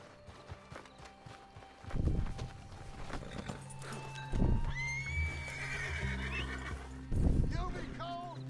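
Horse whinnies and clip-clopping hooves in Red Dead Redemption 2 online, with game music and effects and a few loud thumps; someone talks over parts of it.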